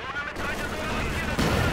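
Machine gun fire in the Company of Heroes 2 video game: a short burst of rapid, sharp cracks over a dense battle rumble, with the firing intensifying near the end.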